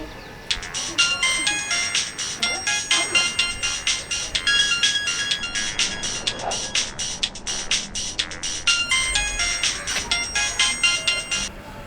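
A phone ringtone plays a fast, repeating electronic melody for several seconds, loud and close, with faint background voices.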